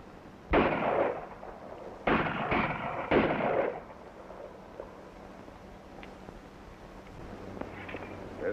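Gunfire in a frontier war radio drama: three loud, close, broadband blasts in quick succession over about three seconds, each with a short echoing tail, followed by a quiet, faintly humming room.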